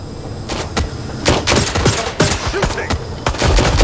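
Rapid bursts of gunfire from a third-person shooter set in London, loud and close, with repeated sharp shots clustered across the clip and brief pauses between volleys.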